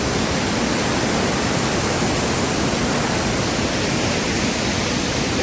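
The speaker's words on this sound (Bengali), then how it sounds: "জলের ধারা দেখেছো কেমন জোরে বয়ে চলেছে, আর কেমন আওয়াজ হচ্ছে শুধু সেটাই শোনো।" Lodh waterfall in Jharkhand sends rushing water under a bridge in a constant, dense roar with no breaks and no voices.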